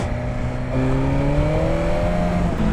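BMW superbike engine from a 2020 model accelerating hard, a loud steady drone whose harmonic pitch climbs gradually over a few seconds, with a brief shift near the end.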